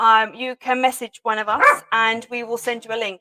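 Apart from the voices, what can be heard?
dog barking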